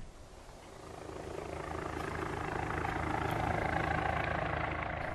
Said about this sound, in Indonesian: Merekam aksi elang dengan helikopter gagal. Karena pesawat terbang itu sangat ribut dan menyebabkan stres.